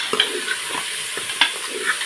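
Goat trotters for mutton paya soup stirred in hot ghee over a high flame, giving a steady soft sizzle broken by a few light scraping stirs close by, with no talking.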